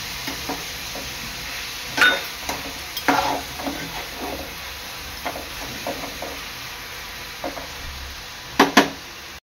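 Onion and tomato cooking together in a pan, a soft continuous sizzle broken by spatula scrapes and stirring clatter, close, with a couple of sharper knocks near the end.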